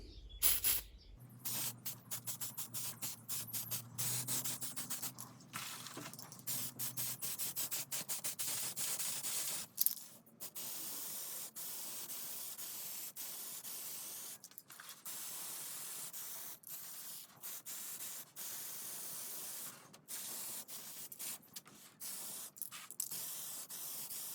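Spray paint being laid as a light first coat on a Proline FJ40 Cruiser scale truck body: a continuous close hiss of the aerosol running almost nonstop, broken by brief pauses, with no voices.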